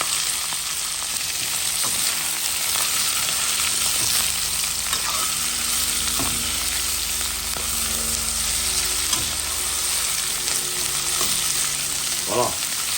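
Onions frying in a cooking pot for a Réunion rougail, a steady, close, dense sizzle running the whole time, with occasional stirring scrapes and clinks against the pot and no talk.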